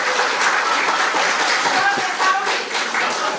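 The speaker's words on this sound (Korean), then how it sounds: "우리 정정식 우리 원내대표님께 큰 박수 한번 부탁드리도록 하겠습니다" An audience at a Korean political forum in Busan applauds loudly for a visiting party floor leader, sustained dense clapping with some distinct nearby claps and faint crowd murmur.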